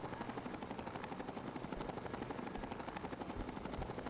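Vertibird helicopter landing in the Fallout 3 video game, a fast, even rotor chop beating continuously at moderate volume, with no voices.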